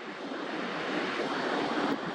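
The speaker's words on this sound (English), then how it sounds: "what you're seeing is the Irish Sea pouring in" Tidal surge of the Irish Sea pouring in at the mouth of an estuary, heard as a steady, broad rushing roar of water mixed with wind buffeting the microphone, with no voices.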